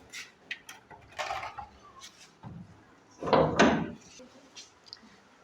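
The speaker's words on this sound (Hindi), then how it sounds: "खोल दीजिए दरवाजा पूरा" A door swung fully open in a lecture room, giving one loud creaking, rattling burst in the middle, with scattered knocks and shuffling noises before and after it.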